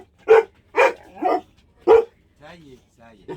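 A dog barks several times indoors, sharp and close, with a few loud barks followed by softer whining or yipping sounds at the end.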